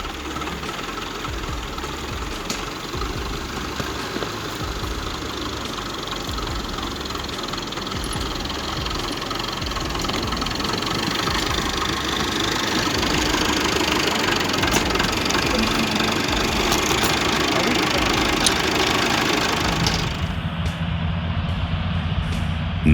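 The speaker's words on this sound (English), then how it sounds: "The IMT 577 tractor is really showing its strength on that treacherous, muddy, snowy path." An IMT 577 tractor engine runs steadily and loudly throughout on a muddy, snowy path, a low rumbling drone with knocking texture, close by, ending abruptly.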